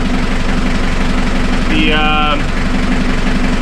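Repaired boat engine idling steadily at close range, a smooth continuous rumble with a brief higher whine partway through and a voice speaking once.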